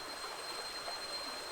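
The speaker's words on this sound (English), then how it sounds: "So I'm down here by the river" A river flows quietly and steadily, a faint, even hiss of moving water with no voices or other distinct sounds over it.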